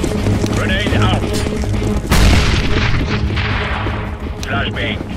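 A grenade explodes in Counter-Strike: Global Offensive, a deep boom punching through ongoing gunfire and game noise, with voices heard around it.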